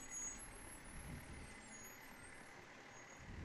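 Glendale Fire Department engine 401 rolling through an outdoor Christmas parade, a steady loud diesel rumble with a brief air-brake-like hiss, continuous and fairly close with no talk.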